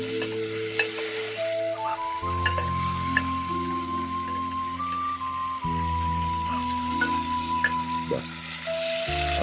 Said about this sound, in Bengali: দুজনের খাওয়ার মতো খিচুড়ি রান্না হচ্ছে বাগানে